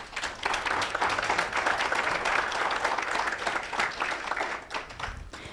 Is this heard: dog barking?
no